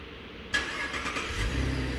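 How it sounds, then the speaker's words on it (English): A Holden VF Commodore starts by remote key: a sudden crank and catch at about half a second, then a steady mid-pitched engine running on at idle, close by and fairly loud, with a slight rise near the end. "lock, hold it down, the car will start"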